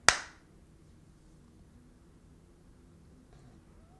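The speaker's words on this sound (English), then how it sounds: "I'm gonna clap and see if you hear it and see it at the same time" A single sharp hand clap for an audio sync test, loud and close, decaying quickly into near silence.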